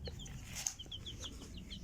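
Chickens cluck softly while being fed, with a few faint, short chirping calls scattered over a low background rumble.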